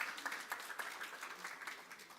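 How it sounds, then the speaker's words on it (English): A small audience claps at the announcement of the inaugural Toyota Cup, a faint, thin patter of hands with a loose rhythm, heard from a distance and fairly quiet. "It's a round of applause,"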